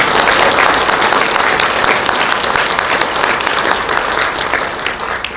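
Steady audience applause fills the room, a dense wash of many hands clapping at once, loud and continuous with no talk over it, easing off only slightly at the very end.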